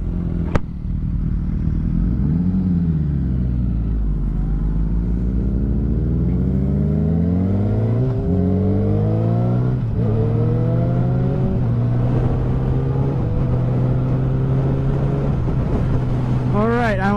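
Kawasaki ZX10 and BMW S1000 sport motorcycles idling and revving before a dig race: steady loud engine drone with repeated rising and falling rev sweeps, close by, continuous throughout.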